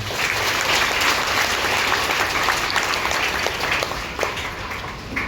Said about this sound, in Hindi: हम जोरदार से तालियां बजाएंगे